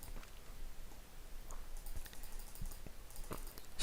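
Quiet computer mouse clicks, a few short sharp taps scattered over a few seconds against a faint steady background hiss.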